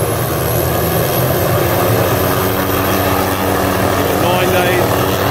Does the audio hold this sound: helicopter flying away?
yes